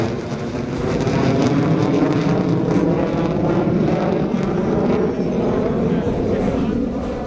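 A Sukhoi fighter jet roars overhead, a loud, sustained, broad engine rumble holding steady for several seconds, mixed with other military aircraft noise and commentary.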